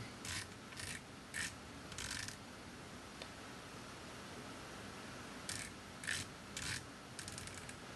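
Adjustment knob on a Harrell's Classic powder measure being turned, giving quiet, crisp clicks in short bursts of two to four, a pause, then several more near the end.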